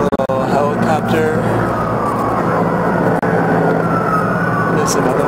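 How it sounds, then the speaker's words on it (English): Sirens of several fire trucks responding to the Lake Hollywood wildfire wail at a distance over a steady rumble of traffic and engines, with a faint voice in the background. "You can hear the multitude of fire trucks."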